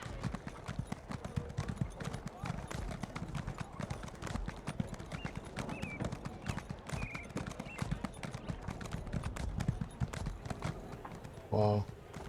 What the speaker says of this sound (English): So look, ride around on my horse.